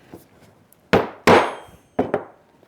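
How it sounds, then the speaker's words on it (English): Rawhide mallet striking a metal leather hole punch, three sharp hard knocks with a faint tap before them, then a double strike near the end, each ringing briefly and close. "Then I have a mallet right here. This is a rawhide mallet."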